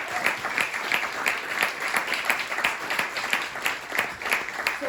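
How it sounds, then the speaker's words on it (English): An audience at a poetry cafe reading applauds together, producing steady, dense clapping that holds at an even level throughout, fairly close and with no talking over it. "another round of applause for all of you"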